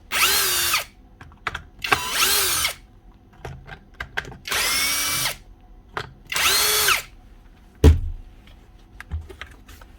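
Bosch or Milwaukee hammer drill with worn brushes running in short bursts, motor whining up and cutting out four times in an uneven rhythm, close and loud, with handling clicks and a thump between bursts.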